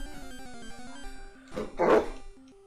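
A puppy gives a short, yappy bark burst near the middle, heard close over steady background game music.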